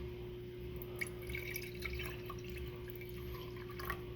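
Cran-grape juice trickles into a fancy wine glass in a quiet room, faint small drips and splashes over a low steady hum.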